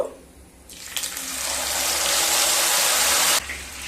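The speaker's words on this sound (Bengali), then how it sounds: "সাথে মশলা ধোয়া জলটাও দিয়ে দিলাম" Spice-washing water is poured into a pan of tomato curry, a continuous close gushing pour lasting a few seconds before stopping abruptly.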